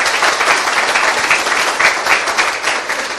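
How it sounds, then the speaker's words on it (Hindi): Audience applause at a church sermon gathering, a dense continuous wash of many hands clapping at close range throughout, steady and loud with no voice rising above it. "आइए इस वचन के लिए ताली बजाएंगे।"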